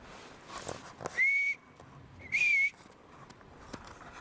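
Two rising whistles sound a second apart in the woods, clear and fairly loud against quiet outdoor background.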